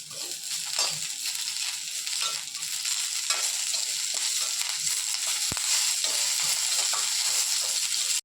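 Curry leaves crackle and fry in hot ghee for an idli podi, a dense steady sizzle with occasional stirring scrapes and one sharp clink, close and continuous throughout.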